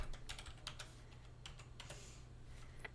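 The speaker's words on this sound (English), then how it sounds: "Type in your password." Keys clatter on a computer keyboard as a password is entered in a quick irregular burst of soft clicks, then a few scattered taps over a low hum.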